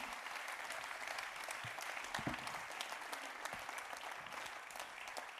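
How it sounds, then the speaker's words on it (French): An audience at a hydrogen business forum applauds steadily, many hands clapping in a dense, sustained patter heard from some distance. "Jean-Louis Etienne, qu'on peut applaudir."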